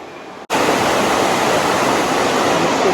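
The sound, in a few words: waterfall, Iguazu Falls in the dry season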